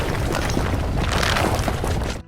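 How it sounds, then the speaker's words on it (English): Rock crumbling and crashing to the ground after an explosion in a video game: a loud, dense rumbling roar of tumbling debris that holds steady for about two seconds, then cuts off abruptly. "they start to hear sounds of rock crumbling and crashing to the ground"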